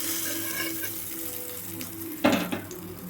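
A continuous sizzle of hot oil, then a sudden loud hiss and crackle as the hot tempering is poured into coriander chutney, fading back to a softer sizzle.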